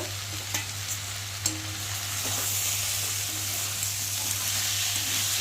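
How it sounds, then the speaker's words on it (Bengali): Turmeric, ginger paste, cumin paste and chopped tomato fry in a pan with a steady close sizzle that swells louder midway, with a couple of early spatula clicks and no talk. "একটু ভালো করে ভাজবো যাতে মশলার যে একটা কাঁচা গন্ধটা বেরোবে"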